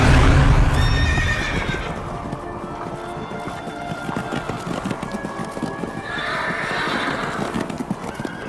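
Horses whinny loudly at the start, followed by a steady run of hoof clip-clops and further neighing, fairly close, with no talk.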